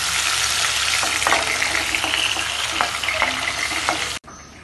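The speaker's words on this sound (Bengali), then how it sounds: "চিংড়ি মাছগুলো উল্টে পাল্টে আমি ভেজে নিয়েছি" Prawns fry in hot oil in a pan, a loud continuous sizzle with a few soft scrapes as they are turned, cutting off abruptly near the end.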